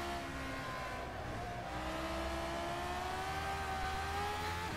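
Simulated McLaren F1 race car engine in the rFactor 2 racing game, heard as a steady, fairly quiet drone whose pitch rises slowly as the car accelerates, with no talking over it.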